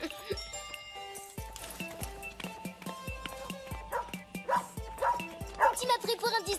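A dog barks and yips in short bursts, loud and fairly close, mixed with whimpering notes amid a busy soundtrack of music and a person talking.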